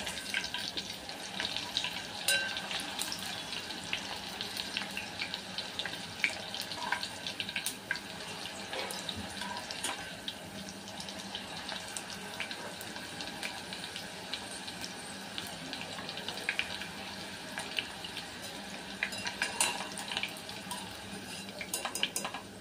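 Corn kernels deep-frying in hot oil under a mesh cover, a steady dense sizzle and crackle with scattered pops running throughout, fairly close and fairly quiet, with no talking.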